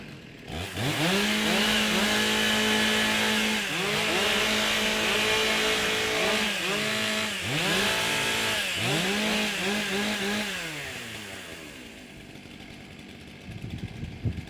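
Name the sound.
chainsaws warming up, stock saw at timbersports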